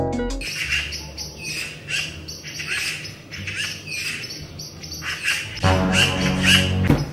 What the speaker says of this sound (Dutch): de vogels in mijn tuin hebben een beetje ruzie